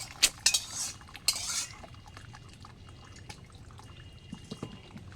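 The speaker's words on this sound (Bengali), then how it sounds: "জল ছাঁকতে দেওয়া হয়েছে।" Boiled taro leaves being strained: a few sharp clinks of metal utensils and pot up front, then soft continuous trickling and dripping water with occasional small knocks.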